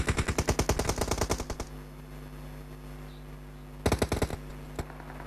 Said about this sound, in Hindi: इसने फायर कर दी